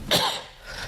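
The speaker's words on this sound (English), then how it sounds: "I've been coughing" A single short, sharp cough, close and fairly loud, trailing off quickly.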